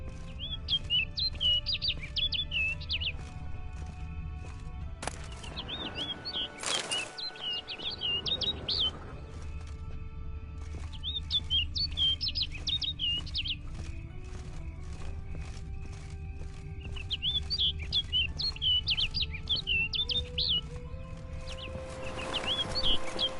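Birds chirp in The Witcher 3: repeated bright, quick tweets in bursts over a steady low game ambience, with a short whoosh-like flutter partway through as a bird flies off, then more chirping.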